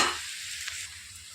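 Chopped green chillies fry in oil in a pan over a slow flame, giving a brief, even, close sizzle with a faint stir partway through.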